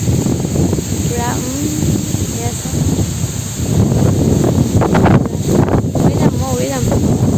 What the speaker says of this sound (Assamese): আচলতে ক্ষীণ মানুহ উৰি যাব এইটো বতাহত